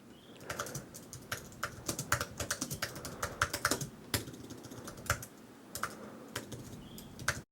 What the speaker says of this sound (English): I'm really liking the typing experience.